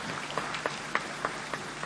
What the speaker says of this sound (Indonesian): Marilah kita berikan tepuk tangan yang meriah kepada para teladan dan perwakilan Raja dan Sultan Nusantara.